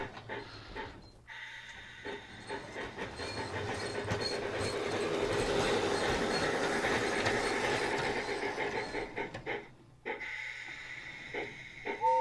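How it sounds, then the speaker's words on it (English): Rhythmic chuffing from a DCC Bachmann G scale Percy model steam locomotive, a steady close hiss-and-puff pattern that swells in the middle and trails off, with a few small clicks at the end. "I think the chuffing sounds the same"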